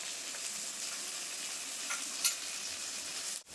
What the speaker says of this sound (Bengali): সেভাবে কিন্তু মশলাটা কষিয়ে নেবো যতক্ষণ না মশলা থেকে তেল ছাড়ছে।